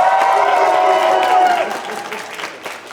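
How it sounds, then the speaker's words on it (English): Loud, close applause mixed with cheering and a few shouts from a convention audience at a cosplay masquerade, strong for the first half and then tapering off toward the end. "So give me another round of applause!"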